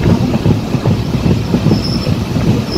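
A passenger train rolls along the rails nearby, its wheels thumping in a steady rhythmic clatter with a faint squeal, loud and continuous without voices.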